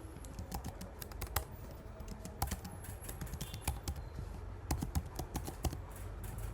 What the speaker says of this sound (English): So now let's begin typing our code.